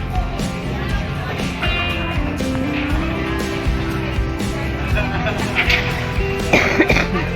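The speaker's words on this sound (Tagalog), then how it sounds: "Medyo inuubo ng lola niya." An elderly woman's coughing breaks out amid a busy, noisy market crowd, with chatter and general bustle around it and a sharper burst near the end.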